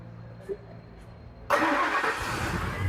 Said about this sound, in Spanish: Vamos a prender el carro.